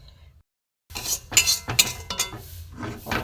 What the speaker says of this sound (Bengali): সুজিটা আমি একটু ভালো করে নাড়বো